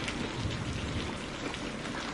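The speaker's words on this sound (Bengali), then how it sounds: "একচোট গরমের পর এত সুন্দর একটা বৃষ্টি" Steady rain pattering on surfaces, a dense even hiss with no voices.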